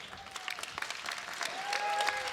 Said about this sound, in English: a big round of applause for these two fighters